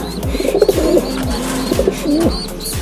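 Several pigeons coo close by inside a breeder loft, overlapping throaty rolling calls repeating steadily with soft wing and perch sounds, no talking.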